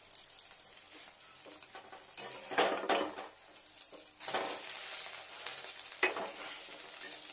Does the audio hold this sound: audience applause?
no